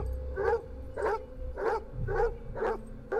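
A dog in the film X-Men: Dark Phoenix barks six times in a steady rhythm, each bark sharp and fairly close, with a low background rumble between barks.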